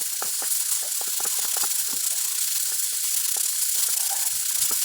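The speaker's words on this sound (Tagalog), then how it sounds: "Habang kumukulo na karuba ang ating pang adobo" Duck adobo boiling in a pot, a steady hissing bubble with small irregular pops and gurgles throughout, fairly close and without any voices.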